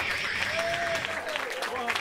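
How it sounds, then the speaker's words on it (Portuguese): A rap battle crowd applauds in a quick, faint wash of clapping, mixed with some crowd voices. "Pra palmas!"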